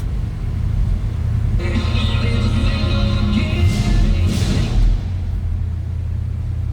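A 1971 Chevrolet C10 pickup truck engine starts and settles into a steady low rumbling idle that stays close and fairly loud, with no talk over it.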